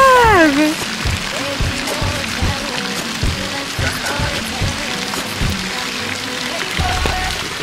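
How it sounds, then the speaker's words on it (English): Steady rain falls and patters outdoors at a resort pool in St Lucia, a dense, continuous hiss with faint voices underneath. "Y'all, it is raining."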